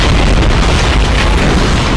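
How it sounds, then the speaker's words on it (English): Fireworks boom continuously in a video game, a loud, dense rumble of overlapping blasts that fills the whole moment without a break. "A lot of fireworks going on."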